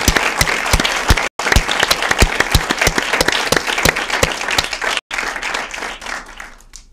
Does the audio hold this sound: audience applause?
yes